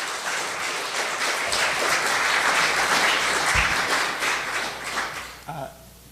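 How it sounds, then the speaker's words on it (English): A full burst of audience applause for a pastor and the finance committee at an FFWPU board gathering in Boston: dense, sustained clapping that swells, then fades out near the end. "Let's give Pastor Edgerly a round of applause"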